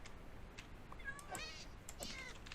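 A Minecraft cat meows a few times in quick succession, short bright calls over a steady background of game ambience and faint noise.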